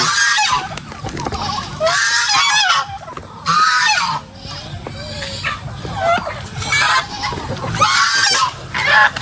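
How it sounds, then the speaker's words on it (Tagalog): Loud, repeated honking and clucking calls from a flock of farm chickens waiting to be fed, overlapping in bursts close by with short pauses between. "Ang mga manok na dito naghihintay."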